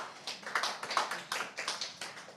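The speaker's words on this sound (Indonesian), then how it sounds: "Mungkin kita beri tepuk tangan untuk Pak Rudi" A small audience at a Huawei IdeaHub and Huawei Cloud meeting applauds after a presentation, with fairly faint, scattered hand claps rising and falling in quick uneven bursts.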